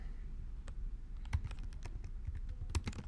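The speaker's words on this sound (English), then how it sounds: "Basically anywhere you click, you can start typing." Someone types on a computer keyboard while building a Google Sites page, giving a few scattered, quiet clicks and key taps over a low background hum, with no talk.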